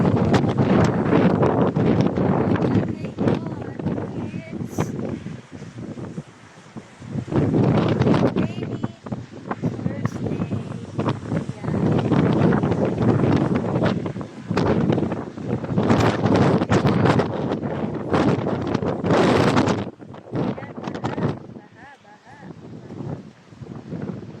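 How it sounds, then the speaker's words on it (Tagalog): Strong wind buffets the microphone in loud, roaring gusts that rise and drop throughout during rainy weather in Dubai, with a voice briefly audible beneath the rushing noise. "Ang lakas ng hangin"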